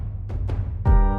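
A warm, slightly distorted kick drum layered with orchestral action strikes opens a hip-hop track that blends in classical music, with three punchy hits building to a sustained, ringing tonal chord, loud and alone.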